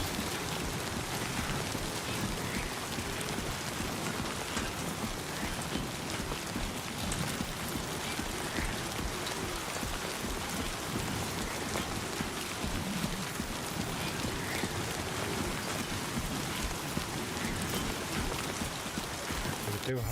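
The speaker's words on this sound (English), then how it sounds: "We're out in the rain now." Rain falls in the video game Death Stranding 2 as a steady, dense patter on the ground that continues evenly throughout, with faint movement sounds mixed in.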